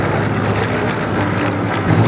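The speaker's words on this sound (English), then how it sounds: "If you look closely at the aircraft flying, you'd see that they're dancing from side to side" A Spitfire flies past at the Duxford airshow, its piston engine a loud, steady broadband roar mixed with wind buffeting, swelling slightly toward the end.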